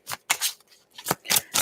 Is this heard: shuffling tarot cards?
yes